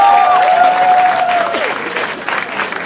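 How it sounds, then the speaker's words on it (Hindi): Applause at a live comedy show, with a crowd clapping and cheering while a whistle-like tone slides downward through the first part; the clapping stays loud throughout. "जोरदार तालियां हो जाए।"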